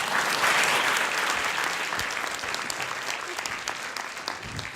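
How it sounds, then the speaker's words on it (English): A warm round of applause for a speaker from an audience, dense and steady clapping that starts loud and slowly thins out over nearly five seconds, with no talk over it. "Let's give a warm round of applause to Carole Freedman."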